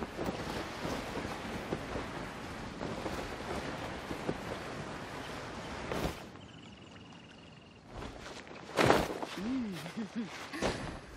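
Rushing wind while gliding in Genshin Impact, a steady breathy whoosh for the first several seconds, then fading into quieter game sounds and brief chimes.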